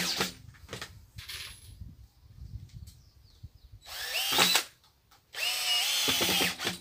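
A power drill drives screws into an old tyre being made into a trampoline, two short whirring bursts near the end after quieter tapping and handling noises, close by.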